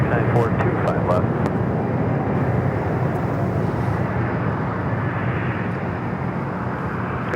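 A Boeing 777 freighter touching down at LAX, a broad steady jet roar rumbling from a distance over the airfield, continuous and slightly fading, with radio chatter and a voice talking over it.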